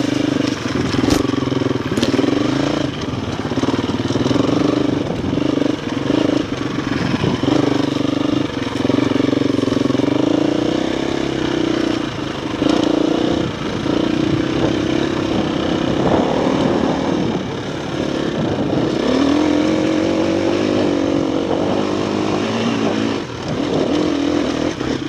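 Motorcycles ride past, their engines droning and revving continuously at close range as they pass, with some clatter and no talking.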